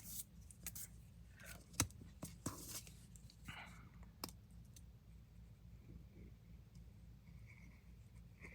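Scissors trimming paper during card crafting with die cuts, a few quiet close snips and rustles early on, then faint handling noise over a low background hum.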